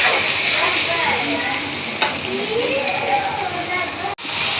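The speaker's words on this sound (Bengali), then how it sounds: "এটা ভালো করে মশলাটা ভালো করে কষিয়ে নিতে হবে।" Spice paste with mustard seed stir-fries in a pan, a close crackling sizzle under scraping stir strokes, with a sharp knock near the end and a voice speaking over it.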